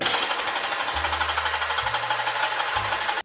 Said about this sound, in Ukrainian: я зміню ось цю штуку на звичайний міксер